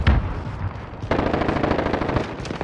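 Automatic gunfire from a weapon in Call of Duty Warzone: rapid, loud bursts of shots in quick succession, continuous through the clip with no talk.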